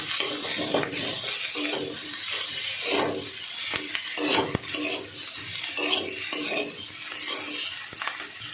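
A spoon stirs and scrapes an egg curry sautéing in a pan. The scrapes come in an irregular rhythm over a soft, continuous sizzle, close up and with no talking.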